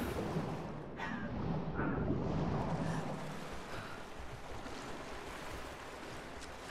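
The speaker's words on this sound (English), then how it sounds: "Water." Water ambience in the video game Rise of the Tomb Raider, in the Baths of Kitezh tomb: a steady, broad wash of rushing water with a breathy, wind-like roar, constant and moderately loud throughout, with no talking.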